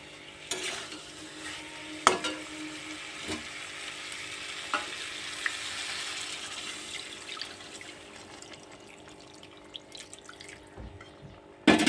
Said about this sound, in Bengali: এবার দিয়ে দেবো আমি জল।